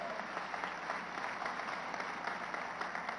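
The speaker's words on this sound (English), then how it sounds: "He deserves an applause." Steady applause from a large crowd at a university graduation ceremony, a dense wash of clapping that holds at an even level throughout.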